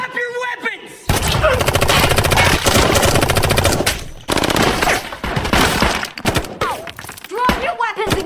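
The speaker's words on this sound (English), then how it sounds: "a fierce gunfight breaks out between Russo's team and Homeland Security" Intense gunfight in a warehouse between an armed team and Homeland Security, with long bursts of loud close machine gun fire and rapid shots, brief pauses, and shouting voices between the volleys.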